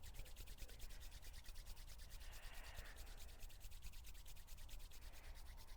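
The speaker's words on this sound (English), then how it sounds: "Rub the hands together, creating a bit of friction, a bit of energy." Palms of the hands rub briskly together during a yoga practice, making a steady, soft, rhythmic swishing friction sound up close with no voices over it.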